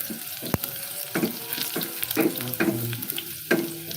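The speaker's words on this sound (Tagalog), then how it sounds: "So, nagisa-gisa na tayo ng bawang." Garlic sautéing in a pan for a sardine dish gives a steady close sizzle, broken by several sharp scraping stir strokes; no one speaks.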